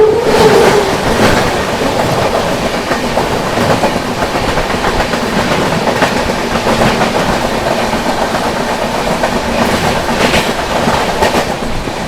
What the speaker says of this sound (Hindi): सामने से आ रही है गोंदिया से चलकर कोल्हापुर की ओर जाने वाली महाराष्ट्र एक्सप्रेस।